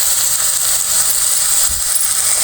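Chopped tomatoes, salted, sauté in a hot pan for a musumusukkai greens chutney, giving a close, steady, loud sizzling hiss with no pauses.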